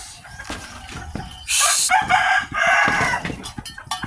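Chickens and ducks at feeding time on a farm, with clucking, a rooster-like crow and overlapping bird calls in close, busy bursts, some louder squawks standing out.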